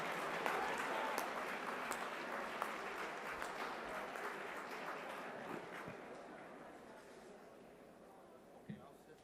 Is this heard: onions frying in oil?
no